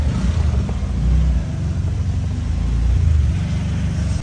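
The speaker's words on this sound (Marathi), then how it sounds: "रिक्षा चालू केले" An auto rickshaw engine runs steadily up close, with a loud low rumble that swells slightly now and then, on a road during heavy rain, with no voices.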